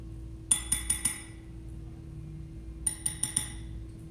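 Metal tablespoon clinking against a dish while measuring ingredients for a gluten-free chicken stir-fry, two quick bursts of four bright taps each, close and quiet over a faint hum.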